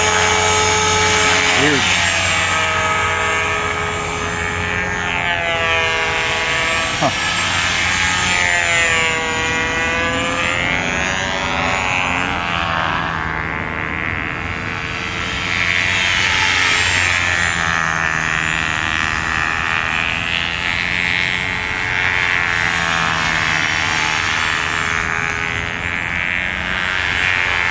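A Trex 500 flybarless radio-controlled helicopter with a partly blown-out tail flies at Busse Woods with a continuous high whine whose pitch sweeps up and down as it moves, with a voice briefly speaking over it.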